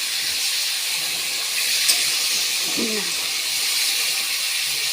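A whole chicken fries in a pan, giving a steady, fairly loud broadband sizzle that runs through the whole stretch, with a faint voice-like murmur briefly underneath.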